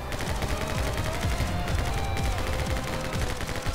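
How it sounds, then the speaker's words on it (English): Rapid gunfire from the action shooter My Friend Pedro, a dense, continuous burst of close, loud shots in quick succession, with no talking over it. "You just shoot them. You just shoot and run."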